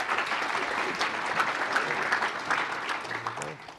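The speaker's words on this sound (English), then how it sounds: "Let's hear it for Jessica" Audience applauding at a credit union executive presentation competition, a steady dense wash of clapping from a large crowd that holds for several seconds before tapering slightly at the end.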